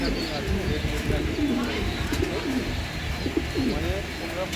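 Fancy pigeons, including a red Madina pair, coo in a Bangladeshi loft, a steady chorus of low, throaty calls repeating close by with a faint voice in the background.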